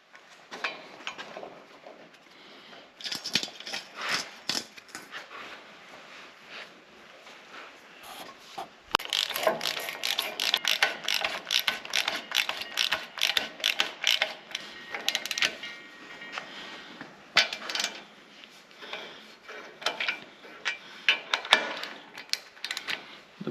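A ratchet tightening bolts on the steering gear of a John Deere B tractor, with close, repeated clicking bursts and metallic creaks coming in uneven runs, busiest in the middle stretch.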